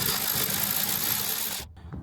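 A ratchet wrench undoes the last bolt on a Mercedes Sprinter van seat swivel, a dense, loud run of rapid clicking that stops abruptly near the end, followed by a brief fainter rattle.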